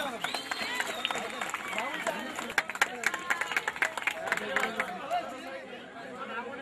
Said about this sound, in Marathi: सर्वांनी टाळ्या वाजवा जरा